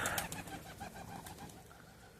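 Soft pigeon coos and rustling sit faintly in a quiet room, a few close calls over low background noise.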